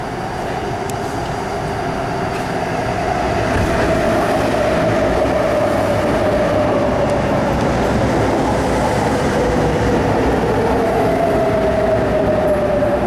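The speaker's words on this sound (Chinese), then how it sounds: "The train to Hong Kong is arriving." An MTR Tung Chung line CAF train arriving at Nam Cheong station, a loud steady rolling roar with a high whining tone gliding downward as it slows, faint squeals and clatter over the rails.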